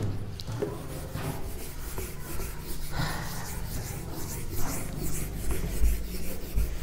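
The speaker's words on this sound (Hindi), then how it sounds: "थोड़ा रब कर लेता हूं मैं।" Steady scrubbing of a teaching board being wiped clean during a lesson, a continuous close rubbing and swishing that runs throughout under a low hum, with no talking.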